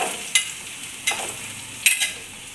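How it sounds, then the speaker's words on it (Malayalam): Ginger, green chillies and shallots drop into hot oil, sizzling softly with three sharp stirring scrapes spaced through a couple of seconds. "ഇഞ്ചിയും പച്ചമുളകും പിന്നെ നമ്മളെടുത്തിരിക്കുന്ന ചുവന്നുള്ളിയൊക്കെ ഇട്ട് കൊടുക്കാം"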